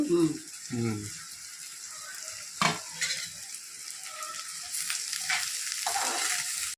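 Onions frying in a pan, a soft, continuous sizzle with occasional stirring clinks; a voice is briefly audible near the start.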